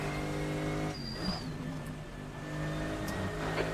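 GT3 race car in Assetto Corsa at Portimao, its engine droning loud and steady with a brief high whine and gear changes, running alone without any voice.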